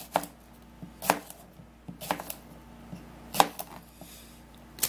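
A knife chops through a whole cucumber on a board in about five sharp, evenly spaced strokes, each one crisp and close, with quiet pauses in between.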